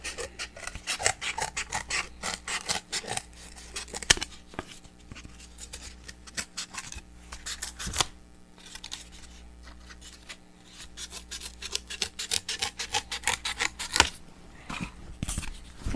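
A boot insole being trimmed at the toe to fit a loose boot, a continuous close rasping and scraping cut in rapid strokes, pausing briefly now and then, with no talking.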